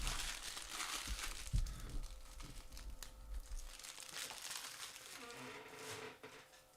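Trading card pack wrappers being handled and cut open with scissors, close crinkling foil and plastic with snips and rustles throughout, with a person talking faintly at times.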